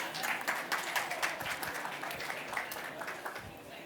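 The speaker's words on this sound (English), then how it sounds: "Surely that deserves a round of applause" Audience applause at a digital pharma conference talk after a projector failure, a steady patter of clapping with some chatter mixed in, fairly quiet and continuous throughout.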